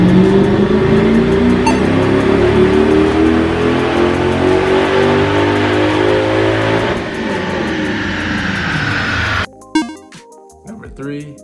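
A car revving hard on a dyno at Dyno Day, its engine climbing in pitch through a long sustained pull before easing off, followed by abrupt clatter and short bursts near the end.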